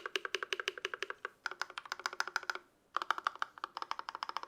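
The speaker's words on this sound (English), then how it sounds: "We're gonna then compare it to this keyboard." Bursts of fast typing on an IQUNIX budget mechanical keyboard, crisp close keystrokes in quick runs separated by short pauses, with no voices.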